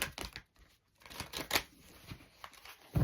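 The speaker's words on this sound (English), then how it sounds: "I'll just do another quick shuffle on screen for you" Tarot cards being shuffled by hand, a series of quick papery riffles and slaps in uneven bursts with a brief lull partway, close and fairly quiet, no one speaking.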